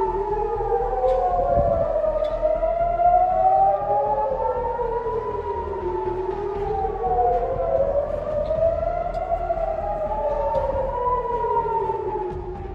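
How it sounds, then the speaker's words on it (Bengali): Loud civil-defense air raid siren in Israel near Gaza, a rising and falling wail that sweeps slowly up and down in long repeated cycles, continuous and alone. "গাজার নিকটবর্তী বনে নেটজারিম এলাকায় ও মিশর সীমান্তে সতর্কতা সাইরেন বাজতে শোনা যায়"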